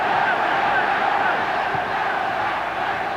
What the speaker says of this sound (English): Great crowd support for the All Blacks.